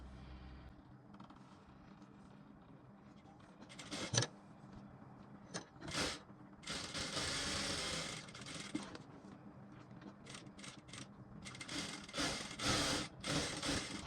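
A sewing machine stitches darts into a blouse, running in intermittent short bursts of whirring with brief pauses between them, at a moderate level with no talk.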